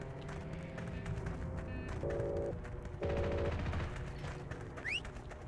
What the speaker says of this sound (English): Guns shoot so freaking fast.